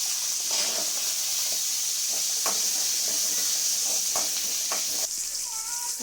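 Small onions sautéing in a pan with roasted moong lentils give a steady, close sizzling hiss throughout, broken by light scraping taps of a stirring spoon.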